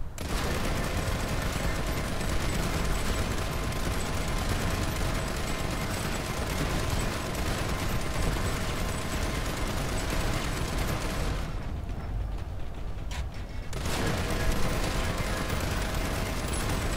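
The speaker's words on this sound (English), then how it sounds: "This thing is like a minigun on top of a tank here." A tank-mounted minigun in the video game PlanetSide 2 fires in a loud, dense, continuous roar that drops away briefly for about two seconds before resuming just as heavily.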